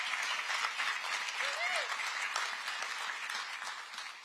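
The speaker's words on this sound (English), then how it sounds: "Would you please give our congressional delegations a round of applause?" Crowd applause for congressional delegations at a presidential event in New York City announcing a Hudson Tunnel grant: sustained, fairly distant clapping with a voice audible faintly beneath it.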